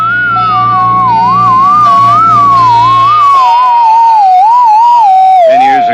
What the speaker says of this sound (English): Probably some ham operator jamming the channel, sir.